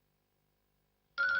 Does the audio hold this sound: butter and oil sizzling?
no